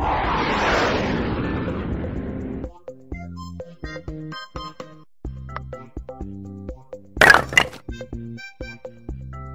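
A fighter jet roars loudly and steadily for a couple of seconds before cutting off, followed by light music with a brief burst of noise.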